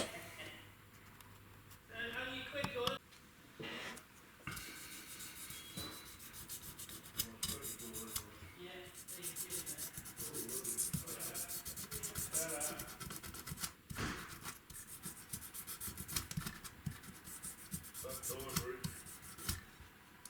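A metal file rasps over an airsoft gun part to take off burrs and sharp edges, a steady close scraping and rubbing that runs throughout with workshop clatter.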